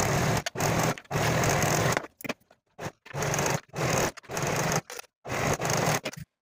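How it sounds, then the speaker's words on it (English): Sewing machine or serger stitching sleeve seams on a bodysuit, several close bursts of rapid mechanical stitching separated by brief pauses. "Sew or serge these seams with a 5/8 inch seam allowance."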